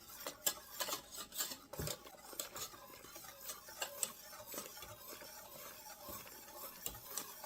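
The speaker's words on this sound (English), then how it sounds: "I need to add my milk slowly. I'm just going to kind of mix it up as I'm adding it." Chocolate pudding mix is whisked in a pot while milk is added, giving quiet, rapid scraping and light clinking of the whisk against the metal, soft and close with no talking.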